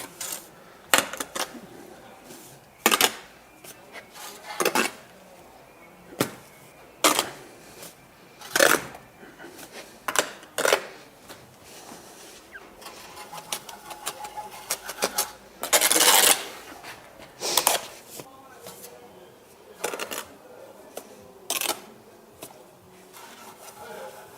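A trowel scraping a bed of mortar while red bricks are laid, giving a long series of short, sharp rasping scrapes at uneven intervals, with quieter tapping and shuffling in between.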